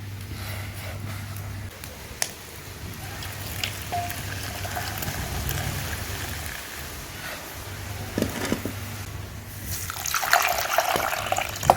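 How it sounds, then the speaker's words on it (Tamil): Water runs and splashes steadily while rinsing soaked crop before cooking in a village kitchen, with a louder pour near the end; occasional clinks and a faint voice in the background. "தண்ணியை அலசி ஊற்றிடணும்."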